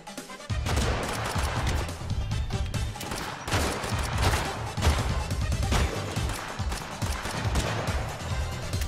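Gunfire in Totally Accurate Battle Royale, dense repeated shots and impacts over a steady low rumble, loud and continuous with sharp cracks throughout.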